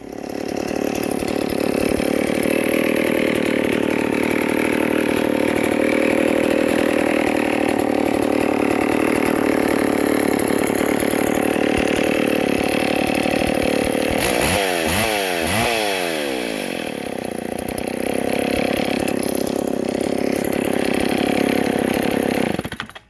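A vintage McCulloch 610 chainsaw engine runs steadily and loudly up close, a continuous buzzing drone held for the whole stretch with a brief rev and wobble partway through, no voices.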